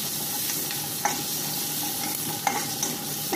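Food frying in a pan and being stirred, a continuous close sizzle with a few sharp scrapes and clinks of the utensil at intervals, no talking.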